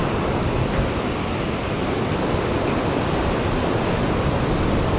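A clear mountain stream on the Langtang trek rushes in a loud, continuous, broadband roar close by, with no voices over it.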